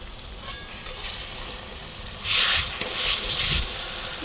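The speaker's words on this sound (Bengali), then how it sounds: "এই যে মশলা আমার কষানো চলছে এখন" Masala spice paste fries in hot oil in a pan, giving a steady close sizzle that swells louder for the last two seconds as it is stirred, with soft scraping underneath and no talking.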